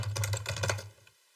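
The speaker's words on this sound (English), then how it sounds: "I just bought a new keyboard" Quick typing on a brand-new computer keyboard, a rapid run of crisp keystrokes that clatter for about a second before trailing off into silence.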